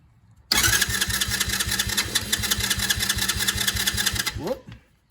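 Small 125cc Tao Motors ATV engine with the choke pulled cranks and fires, running in a fast, rough, steady putter for about four seconds before cutting out abruptly; loud and close, no talking.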